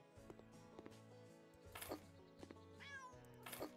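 A cat meows a few times in the House Flipper video game, short quiet calls spaced over soft game background sounds.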